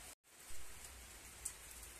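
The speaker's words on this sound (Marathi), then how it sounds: "हे बघा, चांगलाच पाऊस झालेला आहे. अजूनही येतोय" Steady rain falling outdoors, a soft continuous hiss of drops after a brief cut at the start, with a faint single drip sound midway.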